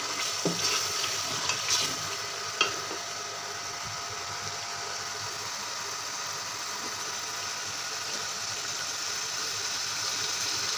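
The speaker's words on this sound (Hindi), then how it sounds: "बीफ ऑयल में ऐड किए हुए तकरीबन पकते हुए 1 मिनट हो चुका है" Beef sizzles steadily in hot oil for koila karahi, a continuous close frying hiss with a few faint clinks early on and no talking.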